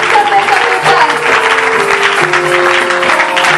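A church congregation applauding and cheering during a Sunday service, dense continuous clapping with a steady roar of voices, loud and close throughout.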